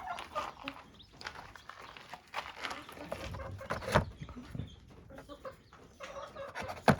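Hens cluck and murmur nearby in a coop in an ongoing chorus of short calls, with occasional louder squawks and faint rustling.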